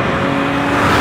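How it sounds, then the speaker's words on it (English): Engine of a Porsche 2.7 RS race car holding a loud, steady, close-up drone with no change in pitch over a brief stretch and no voices present. "It's really an incredible high performance race car engine sound."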